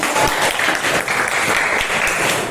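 A group of teachers and staff gathered at a school breaks into brisk applause, a dense, even patter of clapping that holds steady throughout.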